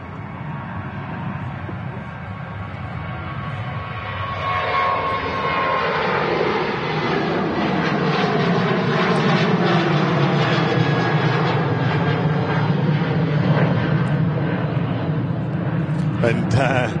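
A KLM airliner bound for Amsterdam throttles up and rolls down the runway at Manchester Airport, its engine roar swelling steadily and staying loud throughout while someone talks over it.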